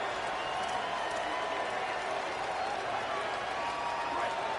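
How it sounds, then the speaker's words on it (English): A football stadium crowd roars in a steady, dense wash of cheering and noise that fills the whole stretch without a break. "The roar of the crowd trying to fuel this defense to keep them pinned in their own end."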